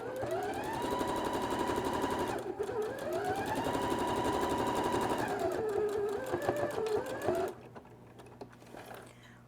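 A sewing machine stitching patchwork rug seams runs in two long bursts of rapid, even needle chatter with a rising and falling motor hum, stopping after about seven seconds, with faint clicks after.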